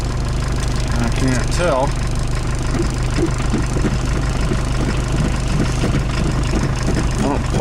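A 1984 VW Golf engine idling after a cold start, a loud, steady low rumble running throughout, with someone talking briefly over it.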